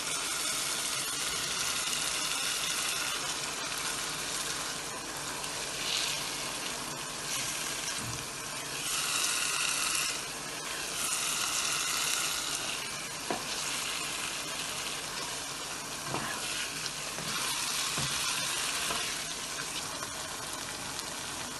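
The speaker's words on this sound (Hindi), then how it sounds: "थोड़ा सा और भूनेंगे।" Minced meat qeema fries in a pan with steady, loud sizzling and occasional stirring scrapes, continuing without talk.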